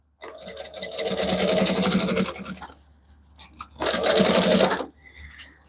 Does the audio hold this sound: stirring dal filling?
no